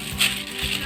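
Wedding gift plates are unboxed and handled, giving a brief, close rattling clatter of crockery while people chat over it.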